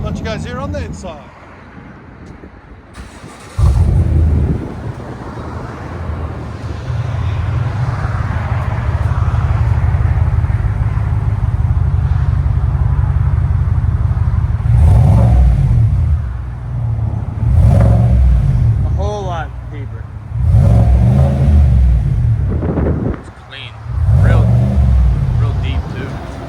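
A Cadillac Escalade 6.2L V8 with an aftermarket exhaust, heard from inside the cabin, gives a deep droning rumble that swells under acceleration, with people talking over it at times.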